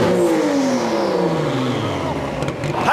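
A Skyline GTR drag car accelerates hard through the gears, its engine note sweeping downward in loud, continuous tones close to the listener.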